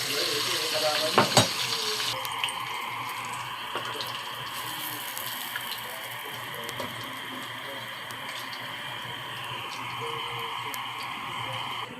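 Chicken fillet sizzles steadily in a pan, with a couple of sharp knocks early on as pieces are flipped, then a continuous close frying hiss with faint ticks, and no talk.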